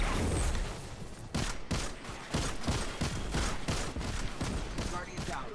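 Rapid gunfire in Destiny 2, dense bursts of shots in quick succession with brief breaks, loud and close, with players talking over it.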